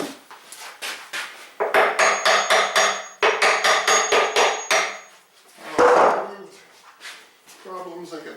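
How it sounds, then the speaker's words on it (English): A hammer taps on wood during a wood glue-up, two quick bursts of rapid, evenly spaced close strikes, followed by a brief scrape and a faint voice. "Here's my hammer."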